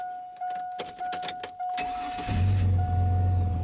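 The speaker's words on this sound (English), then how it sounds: "as you can hear, the engine is now running" A 2002 Chevy Silverado cranks and catches after a rotor repair, settling into a steady, loud idle with a low rumble; chimes and door clicks precede the start.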